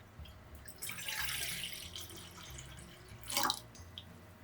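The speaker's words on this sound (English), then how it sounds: "Grab a pan and add 500 ml of dashi stock." Dashi stock is poured into a pan for udon broth, a faint watery splash and trickle with a louder burst near the end, heard alone in a quiet kitchen.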